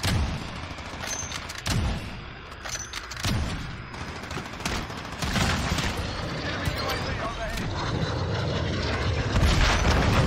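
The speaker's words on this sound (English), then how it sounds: "I don't even shoot down the Harrier" Harrier jet roaring overhead in the Modern Warfare beta shooter game, a sustained loud engine rush mixed with bursts of gunfire and explosions, while a player talks over it.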